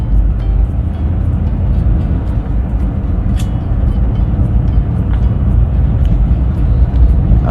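A manual car's engine on a public road, a loud steady rumble that builds slightly as it accelerates, with constant road noise and no talking.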